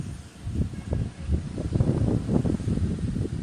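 Strong outdoor wind gusts in steady, buffeting surges against the microphone during a fighting-kite match, a rough rumbling roar with no voices.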